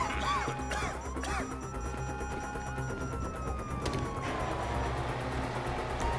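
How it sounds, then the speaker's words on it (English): A police siren wails in Grand Theft Auto V, a rising and falling tone heard alongside crashes, thuds and car noise in a chaotic street scene, with no talking. "You hear that? Sirens!"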